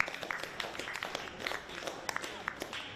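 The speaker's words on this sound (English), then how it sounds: "and a round of applause" A football crowd applauds an injured player, Brodie Welch, at a cup match: scattered, moderately distant clapping of many hands, steady and fairly faint throughout.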